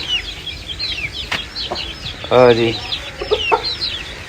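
An Aseel rooster clucks close by, with small birds chirping in the background and a person speaking briefly.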